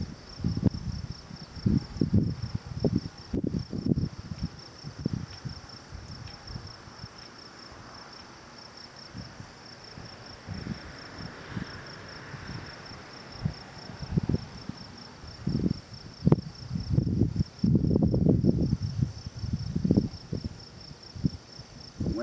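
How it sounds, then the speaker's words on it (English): Crickets chirping outdoors near running water, a faint steady high trill running the whole time beneath louder irregular low bumps and rustling close by. "There's crickets chirping all over."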